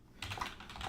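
Quick soft keystrokes on a computer keyboard while C code is typed, a short close burst of clicks after a brief pause, quiet and without talk.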